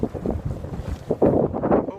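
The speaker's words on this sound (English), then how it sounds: "it's getting a bit windy and a bit noisy" Gusty wind at Spurn Point in November buffets the microphone in low, uneven bursts, growing louder and rougher toward the end.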